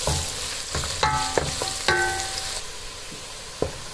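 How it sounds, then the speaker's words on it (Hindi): Onions, garlic and roasted cumin sizzle as they are stirred in a hot pan, with a steady frying hiss broken by several sharp scrapes and clinks of the spoon against the pan over about four seconds. "इसको थोड़ी देर तक मिक्स करेंगे कि लहसुन का कच्चापन ख़त्म हो जाए।"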